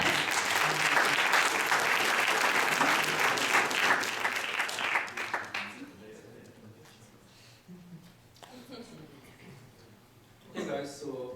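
Warm audience applause at a chemistry conference, a dense burst of clapping that rolls for about five seconds before fading into scattered voices and room chatter.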